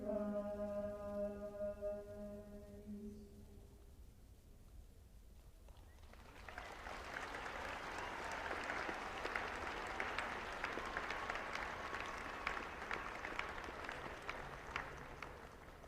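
Audience applause at a 2021 high school graduation ceremony after a chamber orchestra and combined choirs finish. A held musical chord fades out, then a crowd bursts into sustained, moderately distant clapping that continues steadily to the end.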